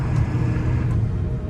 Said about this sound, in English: I'm hitting the gas down and taking it for a spin.